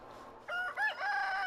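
A rooster on a free-range chicken farm crows once, a clear, rising and falling call that is close and loud over faint outdoor background noise.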